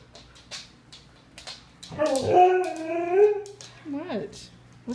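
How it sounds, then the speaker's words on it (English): A dog whines and breaks into a wavering howl close by, with soft whimpers before and after, while a person speaks over parts of it. "Why are you barking at me?"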